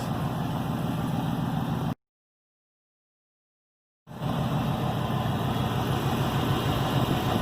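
A 2006 Chrysler 300C AWD engine runs at a steady idle with a continuous broadband rumble, interrupted by about two seconds of complete silence before resuming just as loud.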